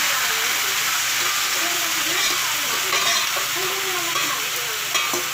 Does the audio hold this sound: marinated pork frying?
yes